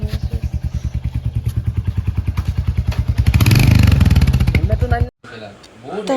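A Royal Enfield motorcycle idles close by with a loud, steady thumping beat that swells into a brief rev before cutting off abruptly, leaving a short gap and then a voice.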